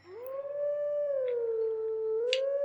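A single sustained wolf howl in Zelda: Twilight Princess, a clear tonal wail that rises, holds and dips slightly before lifting again at the end, near and alone with no talking.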